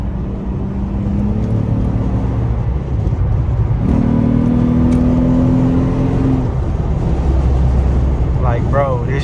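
A tuned 2006 Acura TL with a muffler delete drones loudly and steadily from inside the car at night, its engine note rising and falling with revs while occupants talk over it.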